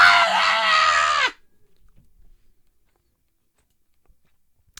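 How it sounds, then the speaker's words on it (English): A kid playing Fortnite lets out a single loud, shrill scream lasting just over a second, then cuts off abruptly into near silence with a few faint clicks. "What the hell is that screaming?"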